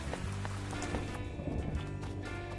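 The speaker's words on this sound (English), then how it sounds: "It's raining." Rain falls steadily in a broad, continuous hiss, faint and even, with scattered patters and soft thuds mixed in and no voices.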